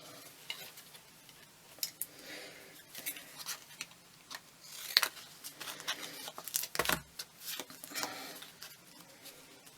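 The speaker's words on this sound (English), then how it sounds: "I'm using my thinking best scissors" Scissors cut a long, thin paper tag in a quiet craft setting, with a series of soft, crisp snips and rustles at an irregular pace.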